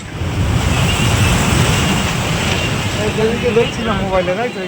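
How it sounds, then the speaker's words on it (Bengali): Sea waves wash in on a beach in rainy, windy weather, a broad continuous surf rush with wind buffeting the microphone, and a voice briefly audible near the end. "দেখো কি পরিমাণ জল আসছে সমুদ্রের নোনা জল"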